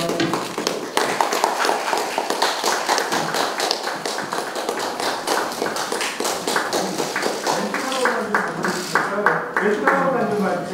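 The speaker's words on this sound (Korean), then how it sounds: "박수 한 번만 부탁드립니다." A room claps at a housing-workers' job-security and rights agreement signing ceremony, a sustained crackle of many hands, busy and close, with voices talking through it.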